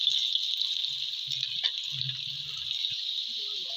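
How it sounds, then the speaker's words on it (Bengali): 400 grams of onions frying in oil for a red chicken kosha, a steady bright sizzling hiss close by, with faint low murmurs and clinks underneath. "পেঁয়াজটা আমি তেলের মধ্যে দিয়ে দেবো।"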